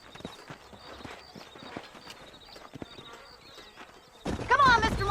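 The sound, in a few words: horses' hooves clip-clopping in video game Red Dead Redemption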